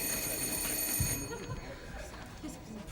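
A telephone bell rings loudly for about a second before cutting off, leaving a quiet room with faint murmuring afterward.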